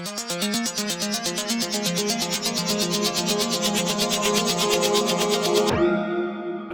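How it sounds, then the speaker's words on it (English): A rhythmic synth pattern pulses rapidly with a sweeping, swirling phaser coloring the notes, ending abruptly into a brief sustained tail. "Really amazing effect there with the phaser."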